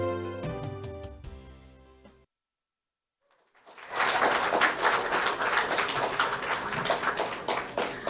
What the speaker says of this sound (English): I will not beg for better applause than that